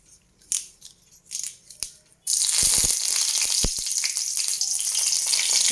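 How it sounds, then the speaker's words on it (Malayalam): Green chili and curry leaves hit hot coconut oil with mustard seeds, setting off a sudden loud, sustained sizzle after a few quieter clicks and taps. "ഇനി ഒരു പച്ചമുളകും കുറച്ച് കറിവേപ്പിലയും കൂടെ ഇടുന്നുണ്ട്"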